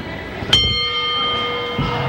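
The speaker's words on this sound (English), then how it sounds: "there's the bell" A bell rings once, sharp and metallic, at the end of a wrestling match on Saturday night television, its bright tone lingering for well over a second before a second softer thump.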